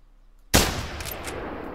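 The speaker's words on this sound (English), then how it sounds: "We're going to take a shot on this one first." A single sharp 30-30 rifle shot fires in theHunter: Call of the Wild hunting game, a loud sudden crack after near silence, trailing into a sustained rumbling echo.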